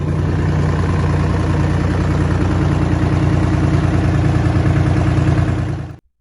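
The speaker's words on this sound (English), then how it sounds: "The 6V-52 was louder than many crews liked. Like all 2-stroke Detroits, it whined under load." A Detroit Diesel 6V-52 two-stroke diesel engine runs loud and close with a dense, steady droning roar and rapid firing pulses, then cuts off abruptly at the end.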